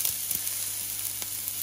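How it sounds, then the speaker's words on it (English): Steady, crackling sizzle of onions frying in a hot wok, with a few faint stirring clicks underneath. "That's lovely and hot, sizzling away."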